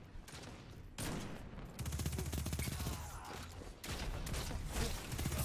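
Shots ring out in Destiny 2 during sniper play with the Revoker rifle, mixed with rapid bursts of other gunfire and steady game noise, loud and near.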